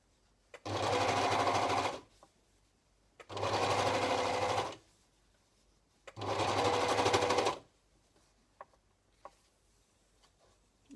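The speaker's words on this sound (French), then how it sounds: "L'avantage de la surjeteuse, c'est que ça va recouper un petit peu le surplus si jamais il y a des zones trop longues" An overlocker serger stitches along fabric edges in three long, steady motor bursts of about one and a half seconds each, separated by short pauses with faint handling clicks, close and loud with no talking.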